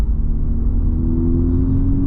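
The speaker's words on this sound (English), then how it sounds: "The exhaust, the AW touring exhaust is not a valve system, so you can still hear it very clearly here in the city." A 2023 Honda Civic Type R fitted with an AW touring exhaust, a non-valved system, drives through the city, giving a steady, loud low rumble and engine drone from inside the car.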